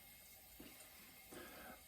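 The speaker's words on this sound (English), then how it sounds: "Sorry, I have the tap running all the time, but I keep adding water." A tap runs steadily, a faint, continuous hiss of water with a couple of slightly louder splashy swells as something is rinsed beneath the stream.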